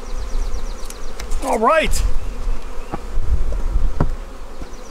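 A honeybee swarm leaving hive 13 fills the air with a steady close buzz, individual bees whining past now and then, while someone says a brief word over it.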